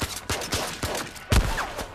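Gunfire in a multiplayer shooter video game, a quick run of sharp shots spaced a fraction of a second apart, one heavier blast near the end, loud and close.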